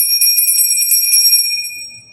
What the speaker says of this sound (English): And then I also like to ring a bell.